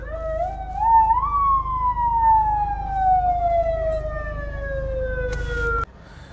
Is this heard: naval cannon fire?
no